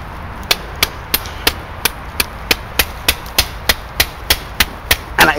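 A tool smacks repeatedly into a hard piece of wood, about fifteen sharp, evenly spaced knocks at close range, with no talk.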